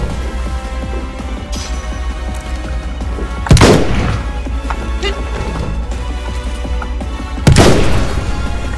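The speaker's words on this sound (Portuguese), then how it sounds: "Odeio sessões de tiro em RPGs" Two sharp, loud gunshot blasts about four seconds apart, each with a booming tail, over a steady background of game music and ambience, from a shooting section in Final Fantasy XV.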